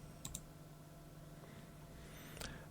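A computer mouse gives a quick double click, then a single click a couple of seconds later, each sharp and quiet against a faint background hum.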